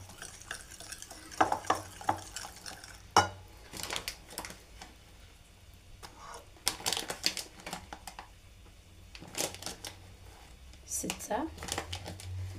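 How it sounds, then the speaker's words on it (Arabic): Icing glaze of powdered sugar being stirred and mixed with a spoon in a bowl for cocoa cookies, giving repeated scraping and clinking strokes in short bursts, fairly faint, with some background noise between strokes. "ونخلط تاعي الطليه مليح مليح"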